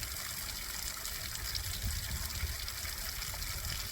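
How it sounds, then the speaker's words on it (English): A tiny trailside waterfall drips and trickles over a rock edge, a soft steady patter of water heard close and alone. "It's the cutest waterfall. Oh my gosh. Just kind of dripping over the edge there."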